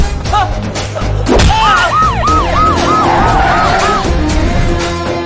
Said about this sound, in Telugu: నెక్స్ట్ 60 మినిట్స్ సిటీ అంతా సైరన్ తో మోతం మోగిపోద్ది.